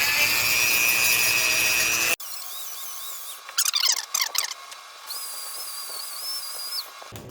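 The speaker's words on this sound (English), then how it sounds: "I'm just dremeling that away." Handheld Dremel rotary tool grinding through a leftover plastic ring inside a T-fitting connector, starting with a loud steady whine, then a quieter high whirring with bursts of scraping contact, alone without talk.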